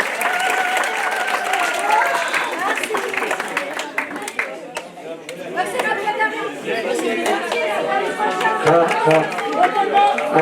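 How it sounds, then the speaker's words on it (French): Audience applause at a certificate ceremony for an Aramaic language course, steady clapping mixed with crowd chatter throughout, fairly loud and close. "Sous vos applaudissements, s'il vous plaît."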